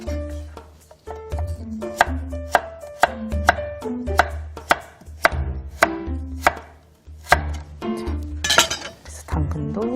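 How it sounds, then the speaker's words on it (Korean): A knife slices carrots into flat rectangular pieces, each cut landing as a close, crisp chop in a steady rhythm with occasional light clinks. "당근은 골패 모양으로 납작 썰고 있습니다"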